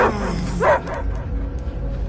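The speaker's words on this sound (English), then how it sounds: "I hear only barking." A dog close by lets out a couple of sharp barks and yips near the start, then fades to a low rumbling background for the rest of the moment.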